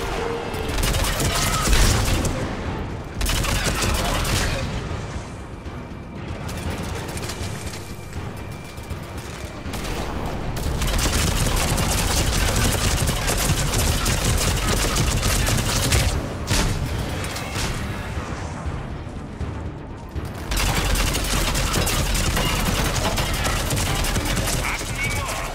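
Heavy weapon fire from the video game Mass Effect 3 roars in dense, sustained bursts with booming impacts, loud and nearly unbroken across the stretch, pausing only briefly a few times.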